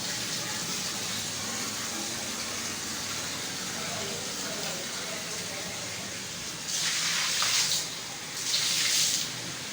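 Water splashes out in two short gushes near the end, following a stretch of steady background noise and faint chatter.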